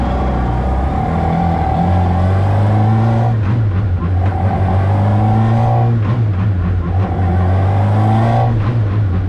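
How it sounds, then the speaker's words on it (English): A Radical SR3 race car accelerates out of the pits at low RPM, its airbox just behind the driver's head giving a loud induction roar. The engine note rises in repeated gear pulls with brief dips between them. "it sounds even better when it's just induction noise, when you're like just getting out of the pits"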